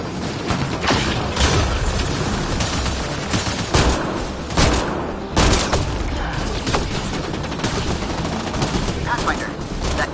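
Gunfire in Mass Effect: Andromeda, with repeated loud shots and bursts of automatic fire over constant battle noise, and voices shouting between the shots.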